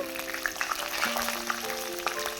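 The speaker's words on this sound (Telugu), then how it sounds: "ఆయిల్ వేడైన తర్వాత కట్ చేసి పెట్టుకున్న పచ్చిమిరపకాయలు" Cut green chillies go into hot oil in a kadai, giving a bright crackling sizzle with scattered pops over a steady tone in the background, close and fairly loud.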